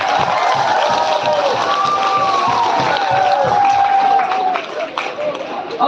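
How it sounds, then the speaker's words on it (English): Students at a secondary school week event clap and cheer for their teachers, a crowd roar with whistling and shouting that swells, then starts to thin near the end. "Please give a round of applause for your teachers."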